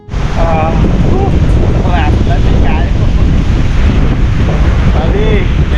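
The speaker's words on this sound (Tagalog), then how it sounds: "Lakas yung hangin." Strong wind at sea buffets the microphone in a loud, constant roar with a rumbling low end, and voices come through faintly at moments underneath.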